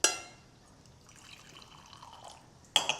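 Hot coffee is poured over ice in a glass, starting with a sharp splash, thinning to a soft trickle, and ending with a brief clink.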